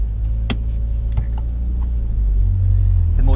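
Car pulling away in first gear during a driving lesson, a low engine rumble that rises as revs build toward the end, with a few brief clicks and knocks early on, close inside the cabin.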